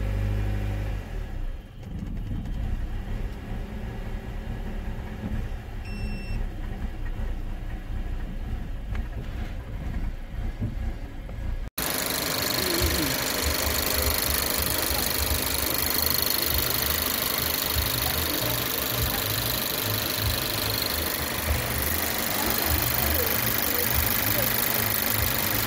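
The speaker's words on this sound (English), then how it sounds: "now the vehicle is running, and I'm waiting for it to come down." A 2017 Toyota Yaris iA with a mass air flow circuit low input fault idles nearby, a steady low engine hum that turns noticeably louder and rougher partway through, with someone talking over it.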